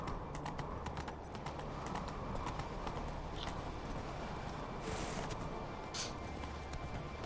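Rapid, steady clip-clop of a horse galloping in The Witcher 3 video game, a continuous rhythmic hoofbeat under faint background noise.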